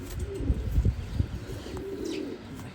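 A racing pigeon coos in low, soft throaty pulses at close range, a few repeated murmurs over a quiet background.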